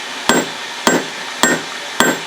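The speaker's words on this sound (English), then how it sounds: "Half on, half off blows with the rounding side of the hammer." Four evenly spaced, ringing hammer blows from the rounding side of a forging hammer strike hot steel held half over the anvil edge while shaping a skull spike knife, each a sharp metallic clang with short ring.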